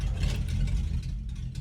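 The engine of a black Charger sports car in the game 7 Days to Die rumbles low and steady, sounding close and loud with a slight surge in revs.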